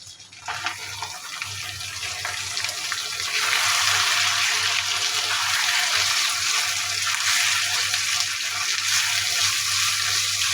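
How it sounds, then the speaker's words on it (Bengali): Chicken meat goes into hot oil with fried onion, garlic and ginger, setting off a loud, steady sizzle that swells after a few seconds and keeps hissing evenly. "পেঁয়াজটা আমার কষানো হয়ে গেছে এখন আমি মাংসটা দিয়ে দিচ্ছি"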